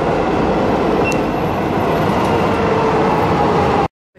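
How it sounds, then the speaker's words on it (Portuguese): A Lisbon metro train rolls along in a loud, continuous rumble with a dense roar and faint squeals on top, heard close from on board, before cutting off abruptly near the end; no talking. "A gente pega o metrô pela primeira vez e o metrô daqui é diferente"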